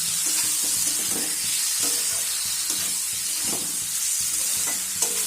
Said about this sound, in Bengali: আলু দিয়ে আমি এইভাবে মশলার সাথে ভালো করে কষিয়ে নেব